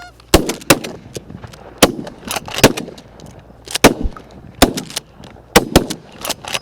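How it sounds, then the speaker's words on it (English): Shotguns fire during an early-season goose hunt in Michigan, a rapid volley of loud, sharp, close blasts spread over several seconds, with geese honking between the shots. "Nice shot, Sam!"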